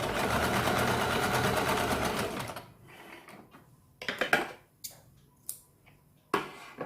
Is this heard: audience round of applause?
no